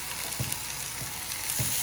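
Chicken pieces sizzle in a pot heated to medium-high, a continuous frying hiss with a few soft bumps and stirs, close by and with no talking.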